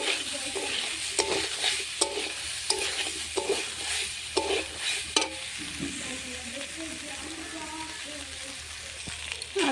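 Potatoes and soybean chunks frying with spices in a pan, with a continuous soft sizzle and intermittent scraping strokes of a spatula stirring the mixture, heard close.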